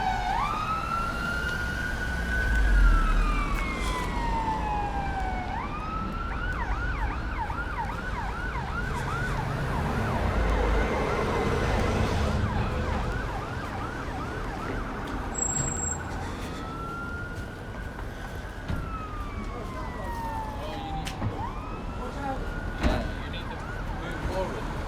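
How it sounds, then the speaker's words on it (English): At least two fire engine sirens wail and sweep continuously through traffic on Botley Road in Oxford, their rising and falling tones overlapping over steady road noise, loud and drawing nearer before easing off. "it can't be the same fire engine because there's at least two of them"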